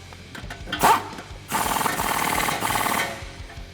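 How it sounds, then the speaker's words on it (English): A ratchet with an 18 mm socket tightens the upper control arm nut on a 2008-2019 Dodge Challenger SR while lowering springs are fitted, making a close, brief click and then a sustained run of ratcheting clicks. "pull down on the upper control arm and tighten it up with your 18 socket"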